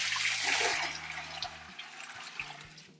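Strained homemade chicken broth is poured from a container back into a cooking pot, a continuous splashing liquid stream that fades gradually, fairly quiet and close.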